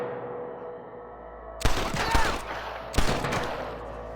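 Gunfire in the Western video game Red Dead Redemption: after a quiet stretch, two sharp, loud bursts of shots ring out with a noisy crackling tail, like a fusillade in an open outdoor setting.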